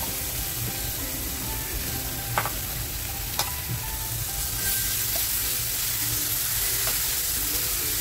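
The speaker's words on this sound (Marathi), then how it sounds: "हे सगळे आहे ना ते मी मंद आचेवर फ्राय करून घेते." Ginger, garlic, coriander, chili and mint masala paste with salt fries on low flame for fish biryani, a steady soft sizzle with occasional stirring scrapes, close and continuous without talk.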